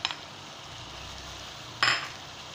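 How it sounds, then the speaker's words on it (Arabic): Chicken frying with onion in a covered pan gives a low, steady sizzle, broken by a clink of metal at the start and a louder clatter of the lid near the end. "نغطيه ونخليها هكا شويه يتقلى مع البصل"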